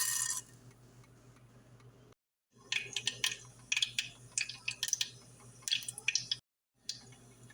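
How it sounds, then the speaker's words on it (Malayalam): About a spoonful of mustard seeds spluttering in hot coconut oil for a Kerala-style mango curry: scattered sharp pops come in quick bursts over a low hum, briefly falling silent twice. "ചൂടായ വെളിച്ചെണ്ണയിലോട്ട് നമുക്ക് 1 സ്പൂണോളം കടുകിട്ട് പൊട്ടിച്ചെടുക്കാം"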